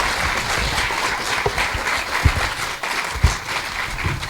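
An audience at a candidates' forum claps in sustained, even applause from many hands, a dense steady patter of moderate loudness with a few sharper individual claps standing out.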